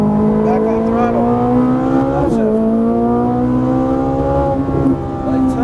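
Ferrari 458 Italia V8 accelerating hard on a race track at Las Vegas, a loud, sustained rising engine howl heard from inside the car, with harmonics climbing steadily and a brief shift dip midway.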